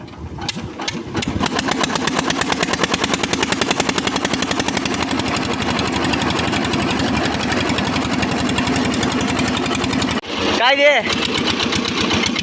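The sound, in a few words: engine of a finger millet (nachni) threshing machine running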